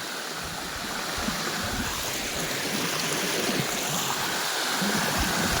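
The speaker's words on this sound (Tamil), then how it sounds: "கீழே தண்ணி எவ்வளோ அழகாக விழுதில்ல" Water tumbling down a cold hillside stream near Kanyakumari, a steady broadband rushing roar that holds at even loudness throughout, with no talking.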